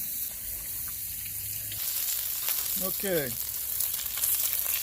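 Bacon frying on a Camp Chef Explorer 2X double burner stove outdoors, a steady broad sizzle running the whole time, with a brief spoken word partway through.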